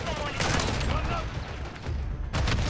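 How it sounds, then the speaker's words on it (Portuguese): Dense gunfire from a Call of Duty Modern Warfare 3 match, loud continuous bursts and volleys filling the whole stretch, with game noise layered in and no pause. "Tô tomando tiro!"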